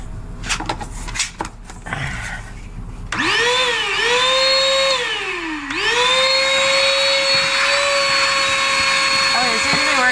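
A car vacuum cleaner whines loudly and steadily, its pitch dipping and rising as the nozzle gets partly blocked and then clears, after some shuffling and handling noises at the start.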